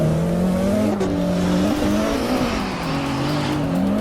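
Continuous tire squeal and wavering engine drone from cars drifting in a sim racing video game at a semi-pro drifting competition, loud and steady with pitch sliding up and down.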